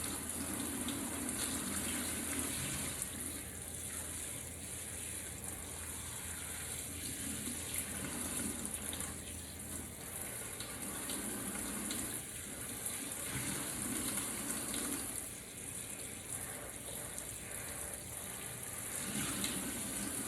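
Running tap water pours steadily as cold water rinses conditioner out of curly hair, a continuous close splashing gush with gentle surges and no talk.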